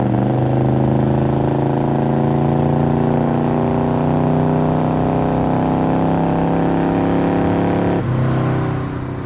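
A 1970 Chevrolet Chevelle SS 396 cruises with a deep, steady V8 exhaust burble through its muffler, loud and close, holding an even drone before a brief pitch change as the throttle shifts near the end.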